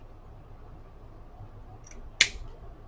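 A single sharp snip of scissors trimming a paper tag pocket piece, a brief close cut in a quiet room.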